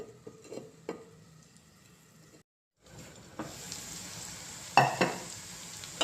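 Bitter gourd (kakarakaya) sizzles in a pan, a quiet hiss with scattered spatula taps, then after a brief gap the frying grows louder and brighter with sharper crackles and clatter, close and without talk.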